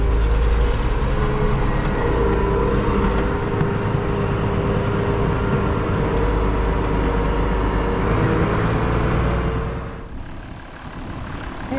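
Tractor pulling a wagon train of round bales on a snowy day, a steady, loud engine drone with rumbling wheels that holds for about ten seconds before easing off slightly, with no talk.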